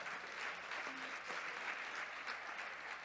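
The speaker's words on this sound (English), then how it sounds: "please, ladies and gentlemen, give my panelists a very warm round of applause" Steady applause from a conference audience for a panel on food, migration and climate change, a dense even wash of clapping lasting the whole stretch at moderate level.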